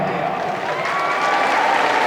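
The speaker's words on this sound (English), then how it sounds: "here we go, round of applause from the crowd" Crowd at a women's cricket Test match between England and India applauds as the teams walk out, a broad, steady patter of many hands from the stands, even and sustained.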